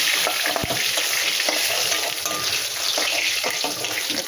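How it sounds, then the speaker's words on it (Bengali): Bhetki fish sizzle in hot oil in a pan, with a steady loud frying hiss and occasional stirring or scraping sounds throughout. "মাছগুলো এবারে এইভাবে ভেজে নেব দেখো মাছ ভাজা হয়ে গেছে"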